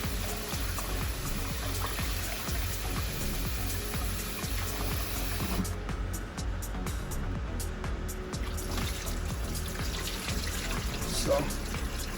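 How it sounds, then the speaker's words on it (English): Rice washed under a running kitchen tap, a steady hiss of flowing water with faint clatter of grains and hands in the bowl, continuous and fairly quiet throughout. "wash out the rice"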